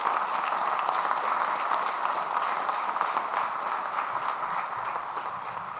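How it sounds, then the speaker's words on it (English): An audience at a grade 5/6 school band concert gives a sustained round of applause for the VIPs, a dense, even roar of many hands clapping that fades slightly near the end. "Let's give them a round of applause"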